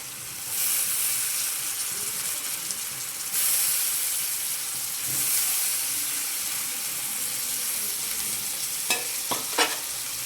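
A continuous bright sizzle of curry leaves frying in hot oil, probably for a bitter gourd fry, steady and close throughout, with a few sharp stirring clicks near the end.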